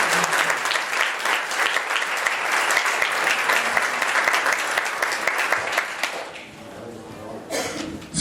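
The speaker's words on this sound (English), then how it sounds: "please give Brother Chase a round of applause" A church youth congregation applauds Brother Chase, sustained loud clapping from many hands that thins and tapers toward the end, with a few scattered claps and faint voices lingering.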